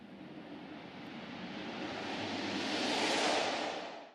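A rising riser effect from an Asian-inspired game soundtrack: a broad, noisy whoosh that swells steadily in loudness and brightness over about four seconds before cutting off, heard alone.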